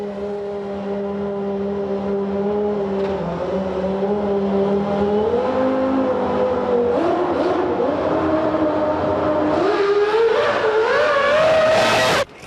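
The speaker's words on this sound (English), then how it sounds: "Mika Hakkinen used the Barcelona tests to repeatedly practice his race starts." 1994 Formula 1 car with no traction control practicing race starts at a Barcelona test, its engine note climbing in rising revs through stepped gear changes, loud and close, ending with a high scream before cutting off.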